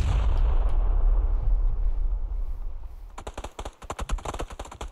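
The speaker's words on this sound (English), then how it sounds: "Oh, they're shooting each other" Gunfire in PUBG: after a rumbling stretch, a rapid burst of sharp shots cracks out close and loud, firing in quick uneven bursts for the last couple of seconds.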